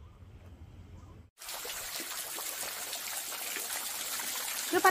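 Water trickles and burbles steadily in a small stream beside a hiking trail in Shivapuri park, starting abruptly after a brief quieter stretch and staying close and continuous.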